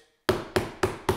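Knuckles tapping on a low-pitched section of a wooden desk, four evenly spaced, sharp, close knocks, each with a short ringing decay, after a brief silence.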